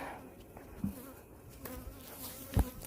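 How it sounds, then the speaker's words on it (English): A honey bee buzzes near its hive, a thin, faint, wavering drone that drifts closer and farther over a few seconds, with no voices. "He's still buzzing around."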